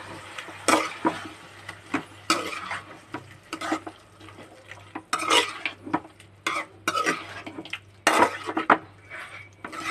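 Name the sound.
stirring spice mix with ginger garlic paste for chicken curry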